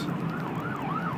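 Police car sirens passing, a loud wailing siren sweeping up and down repeatedly over a steady traffic rumble, close by.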